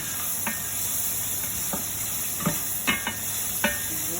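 Onion sizzling in a hot pan for sweet and sour fish, a steady hiss broken by several sharp crackles and spatters, close and fairly loud, with no talking.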